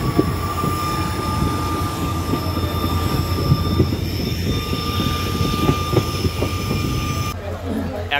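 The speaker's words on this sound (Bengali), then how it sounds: "এখন ট্রেন পৌঁছালো লীলাবাড়ি রেলওয়ে স্টেশনে" Express train 15813 Dekargaon–Murkongselek pulls into Lilabari station with steady rumbling wheels and a sustained high squeal held throughout, the noise close and loud before easing slightly near the end.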